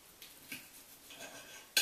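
Cutlery taps and scrapes on a plate while cutting into a Hamburg-style Wienerschnitzel topped with egg, a few faint clicks ending in a sharper metallic clink, close and quiet.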